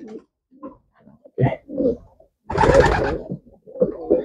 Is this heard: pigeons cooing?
yes